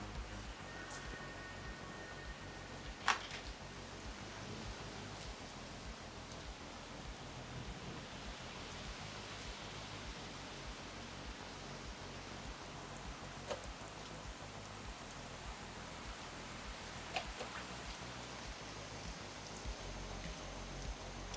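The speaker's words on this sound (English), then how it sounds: "I love it when it rains." Steady rain falls outside the windows of a second-floor pottery studio, a constant soft hiss lasting throughout, with a few faint knocks and no talking.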